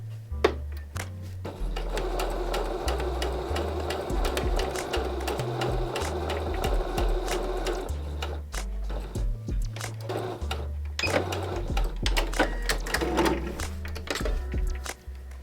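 A sewing machine stitches fabric at close range, its motor whirring in steady runs that shift pace and pitch, broken by brief pauses and small clicks and knocks, with no talking.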